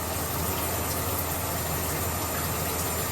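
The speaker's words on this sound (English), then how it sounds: "So our water's filling up." Water runs steadily into an off-grid shower as it fills, making a dense, constant rushing hiss like a pump or tap. It is loud, close and unbroken for the whole stretch, with no voices.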